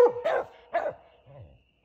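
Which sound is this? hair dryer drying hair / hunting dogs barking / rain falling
hunting dogs barking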